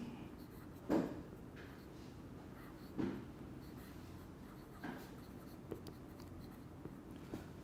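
Chalk or marker writing on a board during a chemistry lecture, a few short scratchy strokes spaced a couple of seconds apart, faint in a quiet room with no talk.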